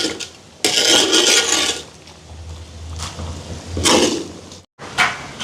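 A ladle stirs chicken curry in a large cooking pot while food is prepared for a charitable meal for the poor, giving several bursts of loud scraping and sloshing separated by short pauses.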